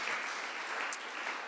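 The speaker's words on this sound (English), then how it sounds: "let's give them a round of applause" A crowd applauds steadily, a continuous wash of clapping at moderate distance.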